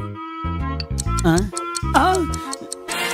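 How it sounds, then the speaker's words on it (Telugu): A wristwatch ticks as heard through a stethoscope during a Telugu comedy film scene. The ticking sits among loud, harmonic music-like tones, with clipped tick sounds in the mix. "గుండె ల్యాప్టాప్ ల్యాప్టాప్ అని కొట్టుకోకుండా టిక్ టిక్ టిక్ టిక్ అని కొట్టుకుంటుంది"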